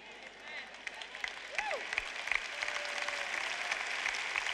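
An audience claps in a large hall at a religious talk, a sustained spread of applause that swells slightly and continues throughout.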